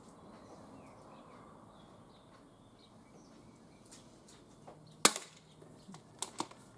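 An Umarex UX SPA 100 spring air pistol fires a pellet outdoors: a single sharp, fairly loud snap stands out against quiet open-air background, with a few fainter clicks and light bird sounds after it.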